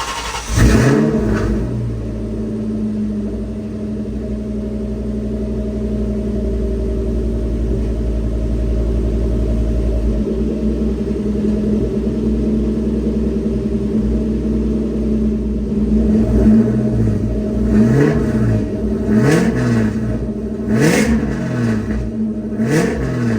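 Terminator Cobra Mustang V8 with Mac mufflers, revving loud and close: a sustained deep exhaust drone for about fifteen seconds, then a series of sharp throttle blips and rumbling revs.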